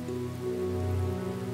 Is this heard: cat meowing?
no